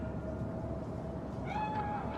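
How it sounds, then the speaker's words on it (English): A cat meows once at a construction site in Cyberpunk 2077, a clear drawn-out call rising over steady background rumble and ambience. "you'll also see a cat in a construction site during the quest Gimme Danger"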